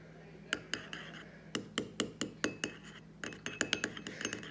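Eggs being stirred and broken up in a dish for egg paint, a utensil clinking against the dish in a steady series of sharp taps that quicken toward the end, close and alone.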